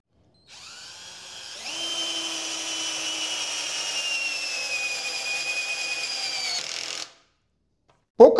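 A 12V Titanium cordless drill driver set to torque 12 whirs in one steady, close, continuous run lasting several seconds, then cuts off, followed by a brief knock.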